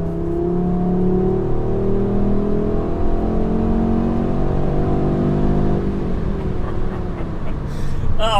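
A 2022 Audi RS3 Sportback's engine pulls hard under acceleration on an unrestricted Autobahn, a loud, steady rising drone with climbing engine tones, easing toward the end as wind and road noise take over.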